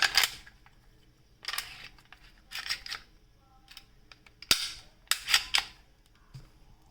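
S&W M&P Optics Ready pistol with an Apex striker block fitted, dry-fired, giving a series of sharp, close metallic clicks and snaps spaced irregularly with quiet gaps between them and no speech.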